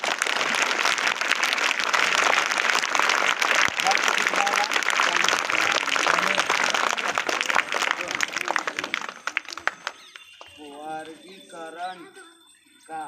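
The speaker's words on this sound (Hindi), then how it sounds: "एक बार ताली बजाइए" Students at a school seminar applauding together, a dense sustained round of clapping for several seconds that thins out near the end as a voice begins speaking.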